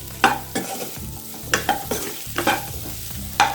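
A spatula stirs courgette roast in a hot pan, giving repeated scraping, tapping strokes in an uneven rhythm over a low sizzle, close up with no voices.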